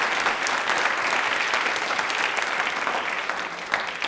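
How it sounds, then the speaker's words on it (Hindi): An audience at a quiz programme about Indian Railways breaks into dense, continuous applause, a steady roar of many clapping hands that holds throughout. "तो आप सबके लिए तालियां"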